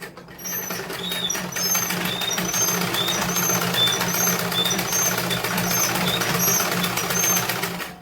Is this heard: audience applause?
no